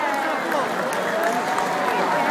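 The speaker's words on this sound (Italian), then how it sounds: "Forte questo applauso." Crowd at the Sant'Erasmo night festival applauding and calling out as a lit hot-air balloon is launched, a steady wash of clapping mixed with voices and chatter close by.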